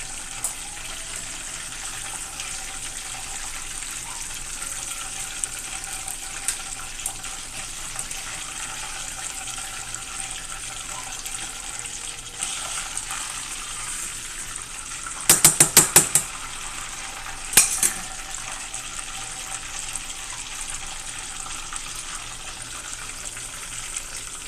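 Oil sizzles in a pan in a constant, fine, hissing crackle held at one level throughout, broken by a couple of sharp metallic clatters partway through.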